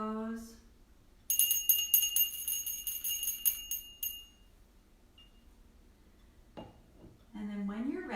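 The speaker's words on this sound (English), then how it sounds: "I'm going to ring the bell here" A single bell is rung to close the relaxation at the end of a yoga class, giving a bright, ringing tone that sustains and fades over a few seconds, with a calm voice speaking before and after it.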